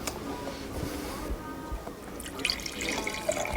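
Wine trickles and splashes into a glass at a tasting, a soft liquid pour that brightens near the end, with a little talk nearby.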